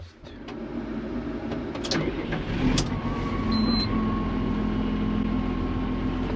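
A small jontikka tractor engine hitched to a disc harrow runs at a steady mid-level hum, with a few clicks and knocks early on before the drone settles and holds steady.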